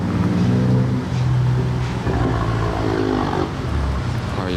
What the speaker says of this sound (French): il y a le bruit qu'il fait avec sa Golf lui